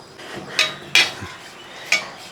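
Spoon scraping and clinking against a metal pan and bowl while roasted egg curry masala is transferred out, with a few sharp clinks over a quiet clatter.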